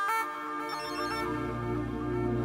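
A mobile phone rings with a loud, steady electronic ringtone melody that plays alone, a bright chiming pattern sustained from start to finish.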